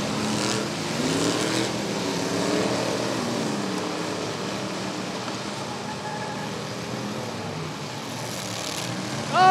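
Several race cars roar around a figure 8 trailer race at Rockford Speedway, a steady distant engine drone with passing rises and falls, swelling louder at the very end.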